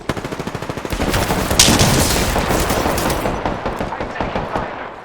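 Rapid automatic gunfire from the Apex Legends shooter, with loud, dense bursts of shots that start as distinct cracks and merge into a sustained barrage while the player is being hit.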